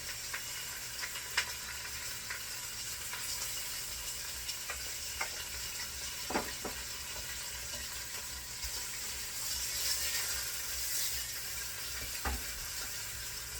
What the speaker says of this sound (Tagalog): So ito na naman yung iba-brown natin yung pork.